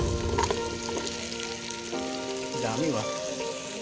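Garlic and eggplant frying in a pan, a steady crackling sizzle running throughout at moderate loudness, with tonal background sounds and a brief warbling tone near the end.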